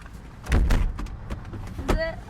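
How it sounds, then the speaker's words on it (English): The door of a Cessna 172 airplane is tugged and pushed with several dull thumps and rattles, close and loud, as someone struggles to latch it while a voice speaks briefly. "I can't shut the door."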